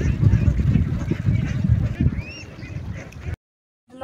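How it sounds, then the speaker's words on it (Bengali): Ducks quack loudly and close in their shelter built on an embankment, with a busy, dense stream of calls that stops abruptly near the end. "এই ঘরের মধ্যে হাঁসগুলি থাকে, বন্ধের মাঝখানে একটি ঘর তৈরি করছে।"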